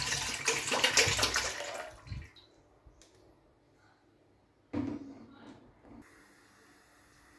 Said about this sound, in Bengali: তো প্রথমেই আমি আধা লিটার পানি ঢেলে দিলাম।